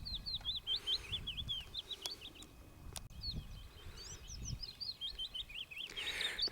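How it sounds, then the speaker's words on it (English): A small songbird sings from a blossoming thorn bush just above a path about eight feet away, a rapid run of bright chirping phrases repeating steadily over soft outdoor background noise. "This little bird's just about 8 foot away, singing just above the path."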